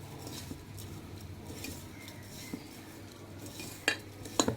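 A spoon scrapes and clinks against a vessel while sugar is stirred into kelvaragu semiya, soft continuous stirring with a few sharper metallic taps toward the end.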